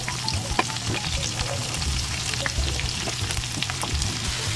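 Squash pieces frying in oil in a pan give a dense, continuous close sizzle with faint stirring crackles and no voices.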